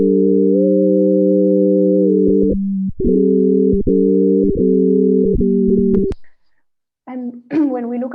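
Pure sine tones tracing predicted choral singing pitches, several steady stacked notes that shift and cut off in short steps, ending with a brief silence and a few quicker, warbling tones.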